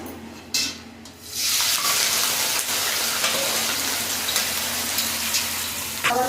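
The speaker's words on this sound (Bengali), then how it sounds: "কড়াইতে দিয়ে দেবো চিংড়ি মাছ" Shrimp hit hot oil in a wok and fry with a loud, steady close sizzle, with occasional scraping stirs over the crackle.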